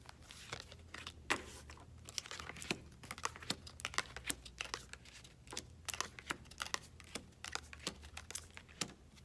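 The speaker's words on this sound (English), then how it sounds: "Giving them a good shuffle." Soft, irregular riffling and tapping of tarot cards being shuffled by hand, quiet and close, with small clicks scattered throughout.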